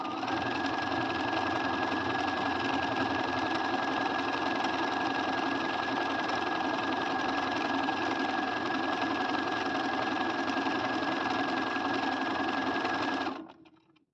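A sewing machine stitches a hoodie seam in one steady, fast, continuous run of close mechanical whirring for about thirteen seconds, then stops abruptly.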